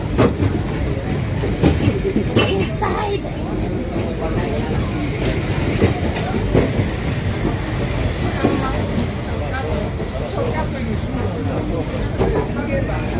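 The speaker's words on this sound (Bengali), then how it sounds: "ট্রেন কিন্তু অনেকক্ষণ ধরে চলছে যদিও স্পিড কম" A long train rolls slowly along Hanoi's narrow train street, a loud, steady rumble and rattle of wagons close by that continues throughout, with crowd voices mixed in.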